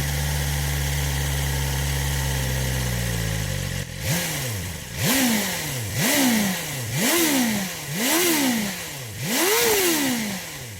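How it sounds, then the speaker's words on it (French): A BMW M 1000 XR motorcycle engine idles, then gives a series of about six sharp revving blips, each rising and falling in pitch. It is loud and close, with no voices. "à froid, c'est vrai que c'est une moto qui fait quand même pas mal de bruit"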